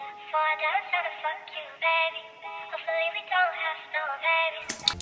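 A looped music sample lifted from the original track repeats its melodic, harmonic phrases at a steady level with no talking, and a short bright burst cuts in at the very end.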